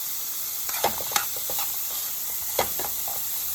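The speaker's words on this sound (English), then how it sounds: "We're just going to saute." Onions and aromatics sautéing in a hot pan for a chipotle jerk chicken filling, a steady loud sizzle and hiss with a few soft stirring scrapes and pops.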